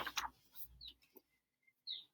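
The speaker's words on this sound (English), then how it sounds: "Blackpoll warbler." A blackpoll warbler sings a few faint, very high, thin notes in a quiet outdoor setting, with short gaps between them.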